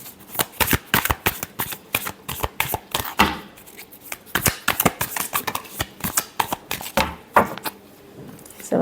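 Tarot cards are shuffled by hand, a rapid series of crisp riffling flicks and taps, close and clear with no talk.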